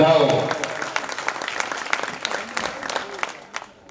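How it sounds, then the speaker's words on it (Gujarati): A crowd at a Ram temple idol-consecration festival in Kapardi breaks into loud clapping, which starts strong and slowly thins out over a few seconds. "તાળીઓના ગણગડાટ સાથે આપણે વધાવો"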